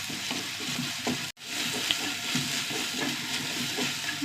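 Crushed ginger, garlic and curry leaves frying in a pot, giving a steady dense sizzle with soft stirring scrapes throughout and one brief dropout partway through.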